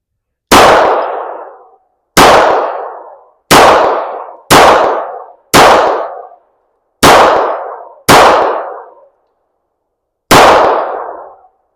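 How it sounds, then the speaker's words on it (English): Eight sharp, loud gunshot reports from a CZ 83 Makarov pistol firing Hornady 95-grain rounds at a steel target, spaced unevenly about a second apart with a metallic ring trailing each shot and no talk. "That was a fast 10 rounds."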